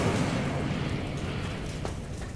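Incendio fire spell cast in the Hogwarts Legacy video game, a loud whooshing roar of flame that starts strong and gradually tapers, with no talking.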